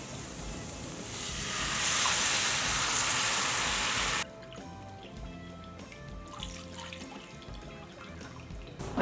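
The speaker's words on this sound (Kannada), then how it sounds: "ಈಗ ಇದಕ್ಕೆ ನೀರು ಹಾಕ್ಕೊಳ್ಳೋಣ" Roughly two cups of water pour into a pan for North Karnataka-style jhunka, a rushing splash lasting about four seconds that stops abruptly and leaves quieter kitchen clinks.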